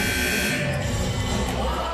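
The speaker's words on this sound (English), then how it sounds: "The buzzer welcomes you back to Rustler Gymnasium" A gymnasium buzzer sounds at a men's basketball game, a loud sustained tone ringing through the arena over steady crowd noise for about two seconds.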